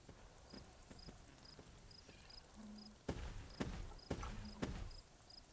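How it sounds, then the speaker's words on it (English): Backward footsteps of a player character in the video game Carnivores Fallen Kings: loud, heavy thuds in an uneven walking rhythm, growing stronger partway through. Faint periodic ticking and a brief low tone run underneath. "I still don't know why they make your backwards footsteps so freaking loud"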